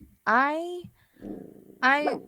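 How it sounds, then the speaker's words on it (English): A dog barks and growls indoors in two loud, close bursts with a low rumble between them, reacting to noises outside. "My dog must hear some stuff outside still."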